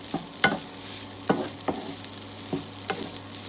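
Vegetables for fried rice sizzle steadily in a hot pan while a utensil stirs and scrapes against it in a few sharp, irregular knocks, close and without talk.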